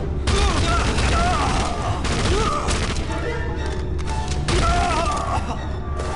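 Gunfire from a Nazi soldier in an Indiana Jones video game, dense, loud bursts of shooting and thuds filling the whole stretch alongside game music and effects.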